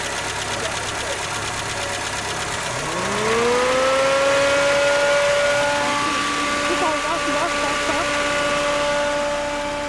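A Peugeot 508 electric radiator fan fitted to a Peugeot 505 spins up near the three-second mark, its whine rising in pitch and then settling into a steady, loud drone that holds to the end. Faint engine noise runs beneath it.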